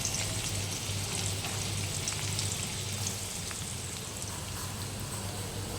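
Onion frying in a pan while upma is being made, with a dense, steady, close sizzle that holds at an even level throughout, like rain on a surface.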